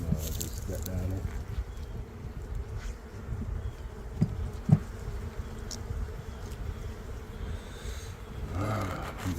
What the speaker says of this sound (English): It looks like we got a little bit of more bees than we had last time.